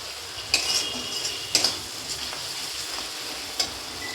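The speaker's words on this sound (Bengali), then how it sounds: "মশলাটা আমার ভালোভাবে কষানো হয়ে গেছে" Spice paste frying in a pan for a jackfruit curry, with a steady low sizzle and a few sharp metal clinks as a utensil scrapes and stirs, no talking.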